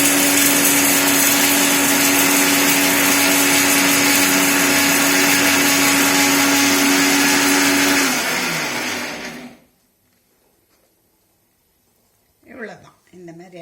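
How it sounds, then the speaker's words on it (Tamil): A mixer grinder loudly whirs as it grinds roasted spices for rasam, a steady high-speed roar lasting about nine seconds before stopping abruptly. A short silence follows, then a voice speaks at the end. "ரசத்துக்கு வறுத்த சாமான்களை மிக்சியில் போட்டு கொரன்னு அரைக்கணும்"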